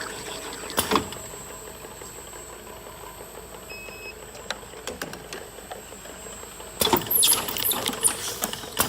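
A wrap-around double label applicator machine runs steadily, labelling bottles with a low mechanical hum, faint ticks and short clicks, then a louder burst of clattering near the end.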